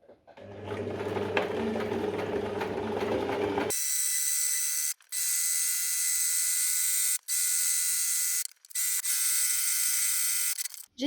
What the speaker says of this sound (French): J'ai terminé de coudre la ouate sur la partie arrière du tapis.